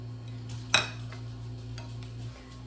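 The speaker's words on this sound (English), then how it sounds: "Let me grab a spatula here. And we're gonna put it in our KitchenAid mixer." A spatula scrapes butter into a KitchenAid stand mixer bowl, giving one sharp clack followed by a soft scrape over a steady low hum.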